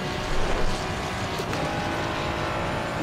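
A BMW's engine roars steadily and loudly in a racing video game, a constant dense drone with no pauses.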